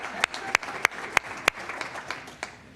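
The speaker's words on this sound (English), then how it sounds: "a round of applause for Ms. Tara Bruce." A round of applause at a board of education meeting, steady clapping from a modest crowd with a few sharp, louder claps standing out, heard from a short distance in a room.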